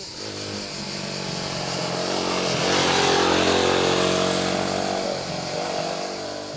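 A Royal Enfield Guerrilla 450 motorcycle exhaust runs steadily with a dense, buzzy engine drone that swells slightly mid-way before easing back, loud and continuous with no talking.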